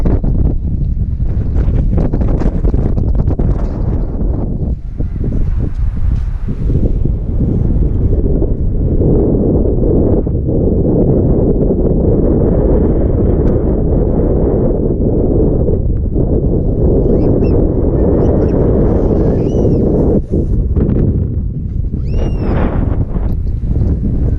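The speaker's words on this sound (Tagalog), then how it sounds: "lakas ng hangin" Strong wind on Mt. Charleston roars steadily into the microphone, a loud continuous buffeting rumble with gusts rising and falling throughout.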